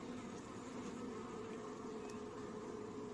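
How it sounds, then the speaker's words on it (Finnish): Honeybees drone in a spring beehive opened for inspection, a dense, continuous buzzing swarm heard up close at an even level, with no talking over it. "Kuitenkin nuortakin mehiläistä näyttäisi olevan."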